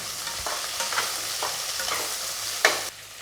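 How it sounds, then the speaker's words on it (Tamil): Long-sliced large onions sauté in a pan for coconut-milk sodhi curry, giving a steady soft sizzle with occasional stirring scrapes and one sharper clatter near the end; no one speaks. "இந்த ஸ்டேஜில் நம்ம நீளமாக வெட்டி வச்சுருக்க பெரிய வெங்காயத்தை சேர்த்துக்கலாம். வெங்காயம் நல்லா வதங்கட்டும்."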